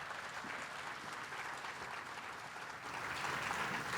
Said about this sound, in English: give my friend, our mayor, an arousing round of applause